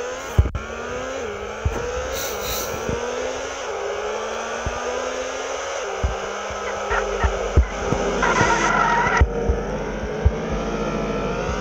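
Car in the Extreme Car Driving Simulator video game with a steady droning engine that steps up through gears, then a broad tire-screech hiss as it slides in a handbrake turn, alone and loud.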